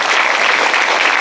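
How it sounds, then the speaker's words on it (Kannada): Loud, dense clapping from a church congregation during worship, a continuous close wash of many hands with no pauses. "ಎಲ್ಲರೂ ಗಟ್ಟಿಯಾಗಿ ಚಪ್ಪಾಳೆ ದೇವ್ರು ಮಾತಾಡಿಸ್ತಾರೆ"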